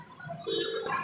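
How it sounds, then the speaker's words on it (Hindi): A telephone call rings out unanswered, a brief electronic ringing tone that grows louder partway through the short stretch, with no voice answering. "ये एक बार कॉल किया है लेकिन अब फ़ोन नहीं उठा रहे।"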